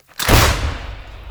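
An M777 howitzer fires a single loud, close blast on the Zaporizhzhia front, followed by a long, low rumbling tail.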